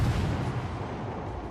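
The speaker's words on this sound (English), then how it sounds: "But there's lots of shots coming in here." Naval gunfire in the game NAM: a dense, continuous rumble of heavy shots and booming impacts, loud and close, with no talk.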